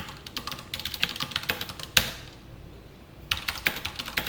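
Code is typed on a computer keyboard in quick irregular bursts of close key clicks, with a short pause before typing resumes.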